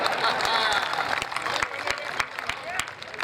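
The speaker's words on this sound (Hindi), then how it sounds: "बात आप तक पहुंचे तो आपकी तालियां उठनी चाहिए दोस्तों" An audience at a Hindi kavi sammelan poetry recital breaks into sustained, dense clapping that fills the whole stretch, with scattered sharper claps standing out over a steady crowd wash.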